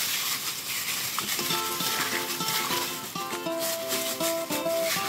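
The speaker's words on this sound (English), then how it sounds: "Mix that egg into each piece of pork rib" A gloved hand works beaten egg into marinated pork ribs for Cantonese sweet and sour ribs, giving a close, steady wet squelching and rubbing under soft background music, with no voices.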